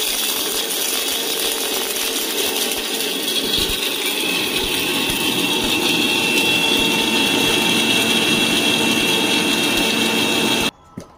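A kitchen mixer grinder whirs steadily as it grinds ajwain (carom) leaves for rasam, a loud continuous motor drone that runs for about ten seconds before cutting off abruptly.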